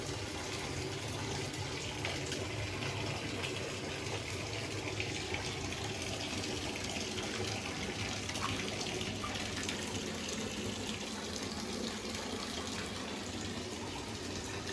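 Water gushing steadily from a tap into a laundry tub for towel stripping, a constant, fairly faint rushing fill heard alone for the whole stretch.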